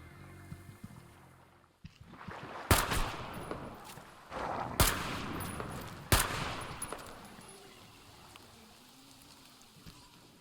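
Gunfire in the Metro Exodus video game, three sharp, loud shots spaced about two seconds apart over watery ambience, heard alone with no talking.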